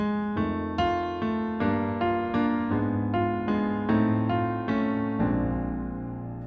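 A piano plays a 12-bar blues chord pattern: repeated stabs over a walk-up bass line that climbs, then one chord rings out and fades.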